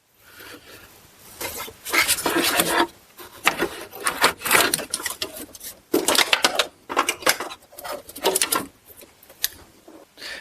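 Transmission cooler lines being worked free from a GM 4T65-E equipped car such as a Buick Lucerne or Grand Prix, giving close, loud scraping and rubbing bursts in uneven pulls, with no talk.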